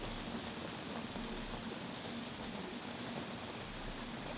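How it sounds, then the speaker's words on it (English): Heavy rain pours down steadily outdoors, a dense, constant hiss of drops hitting surfaces close by with no break or change across the whole stretch. "it's raining so much"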